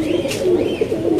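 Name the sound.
pigeons cooing in a cage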